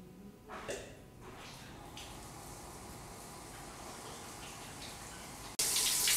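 Shower water runs steadily while someone bathes, a continuous close hiss of spray that turns suddenly louder and brighter near the end.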